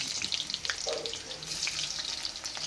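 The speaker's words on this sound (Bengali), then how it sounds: "এবার তেলের মধ্যে দিয়ে দিলাম কুচনো পেঁয়াজ।" Chopped onions hit hot oil in a pan and sizzle close up, with crackling bursts and soft stirring scrapes over a steady frying hiss.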